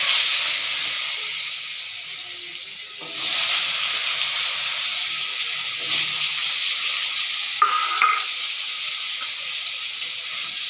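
Potatoes for a fish curry dropped into hot oil tempered with white and black cumin, a loud close sizzle and hiss that swells after a few seconds, with occasional spatula scrapes and no talk.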